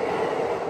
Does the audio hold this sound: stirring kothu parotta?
no